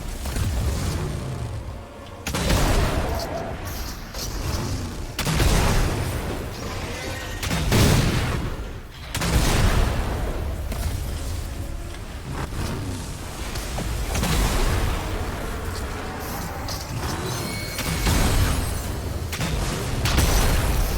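Rocket explosions in Fortnite Save the World, repeated heavy booms and crashing blasts arriving every couple of seconds amid whooshes and a continuous roar of battle, loud and close with no voices.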